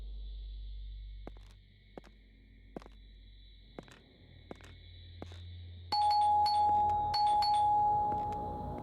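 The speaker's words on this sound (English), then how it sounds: "I think that's the doorbell" A doorbell sounds in a quiet room, starting with a series of bright, evenly spaced electronic tones. Partway through it turns louder, with a sustained tone and quicker chiming notes layered on top.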